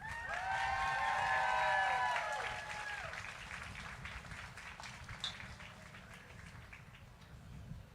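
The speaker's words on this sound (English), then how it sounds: "A nice round of applause for Carolina Real of Ridgefield," Stadium crowd cheering and clapping to welcome the national anthem singer at a New York / New Jersey FIFA World Cup host city event, a loud sustained roar that swells early, then slowly thins, with whoops above it.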